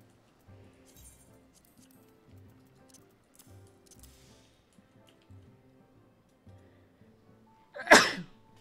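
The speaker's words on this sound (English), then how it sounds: "Hopefully, I didn't sneeze into the mic." A single sharp sneeze bursts out loudly near the end, preceded by faint intermittent background clinks and murmurs during an online game raid session.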